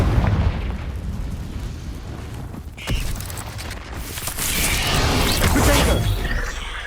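A Confringo fire spell bursts in Hogwarts Legacy, a loud booming blast amid ongoing battle noise, with a sharp impact near the middle and a rumbling roar building toward the end.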